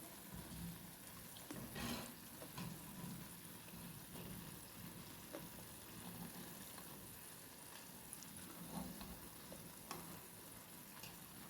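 Small unniyappam fry over low heat in a non-stick pan, a quiet, steady sizzle with soft bubbling and occasional faint clinks, heard close with no talking.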